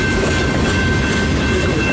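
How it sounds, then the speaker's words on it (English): Long westbound CN freight train rolling past at close range, a loud steady rumble with rail noise and faint clickety-clack continuing throughout without a break. "Long train. Yeah, this is a westbound."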